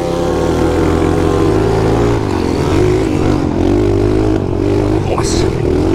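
A trail motorcycle engine on a dirt trail revs loudly and close, with a throbbing low drone and shifting pitch that dips midway and climbs again.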